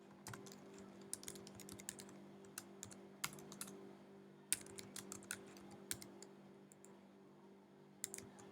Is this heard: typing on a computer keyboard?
yes